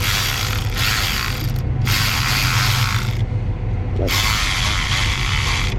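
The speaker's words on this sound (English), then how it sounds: "The ratchet's got to be in forward. So we're gonna go like so." Hand ratchet turning a hose clamp on a 6.6 Duramax water pump in a 2008 Silverado 2500HD, steady close-up clicking in long bursts with brief pauses between strokes.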